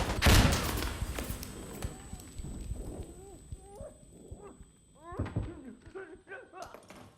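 A grenade goes off in Insurgency: Sandstorm, one loud, close blast at the start that dies into rumbling debris, followed by scattered gunfire and shouting voices over a faint steady tone.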